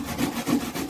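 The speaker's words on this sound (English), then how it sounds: "So see there, I just scrape my potato." A sweet potato's skin is scraped with a rhythmic rasping, three or four close strokes in quick succession, soft and dry, with no talking.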